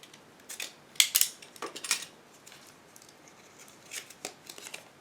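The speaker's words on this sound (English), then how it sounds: "I will try to cut it with knife." A knife slicing through tape sealing a HobbyBoss 1/72 Merkava Mk.IV model kit box, heard as quiet, close bursts of crisp scraping and cutting scattered over a few seconds.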